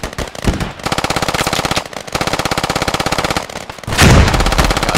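Automatic gunfire from a squad battle in the video game Squad, with an RPG launcher in hand: a long, loud, rapid stream of shots with a brief gap, then a heavier booming blast near the end.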